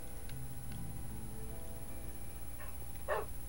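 A dog in the Xbox edition of Minecraft gives a single short bark near the end, clear above a steady low game background hum.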